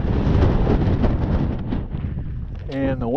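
Strong wind buffets the microphone on a snowy mountain slope near Andrews Glacier, a loud, steady rumbling roar that eases slightly midway, with a brief voice near the end.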